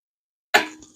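A single sharp metallic click as an oil pump part on a 1968 Chevelle engine with a Holley 302-3 oil pan snaps into place, close and brief, after a moment of silence.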